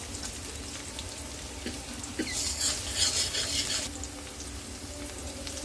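Chopped bitter eggplant and green chilies fry in a pan with a soft steady sizzle, a brief burst of louder crackling and stirring swelling in the middle before settling back to a quiet hiss.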